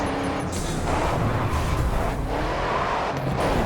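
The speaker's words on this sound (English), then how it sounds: "Why am I racing trucks?" Racing trucks roaring around a track in the Grid 2 video game, a loud continuous engine drone with road noise and tyre rumble filling the whole stretch, no talk over it.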